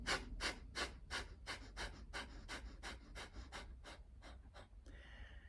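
Shining skull breathing exercise: about a dozen quick, forceful exhales through the nose in an even, rapid rhythm, close and clear, ending with a softer breath.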